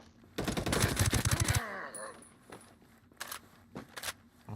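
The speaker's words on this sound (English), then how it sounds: "Firing on targets." A rapid burst of automatic gunfire in a video game fires at targets, loud and close for about a second, followed by a few scattered softer shots and clicks.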